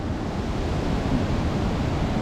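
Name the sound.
waterfall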